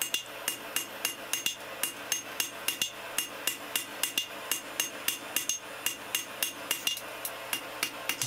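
A steel rasp being forged into a snake is struck by a hammer over and over in a steady ringing rhythm, loud metallic blows landing close together near the tail, with no voices.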